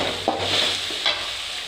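Tomato and onions sauté for a chicken gravy, giving a close, steady sizzle with a couple of soft stirring scrapes.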